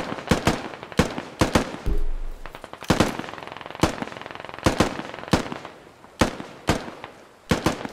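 Gunfire in the military shooter game Squad: sharp, loud shots in irregular bursts and single cracks, some rapid automatic volleys, spread across the scene with a low rumble between them.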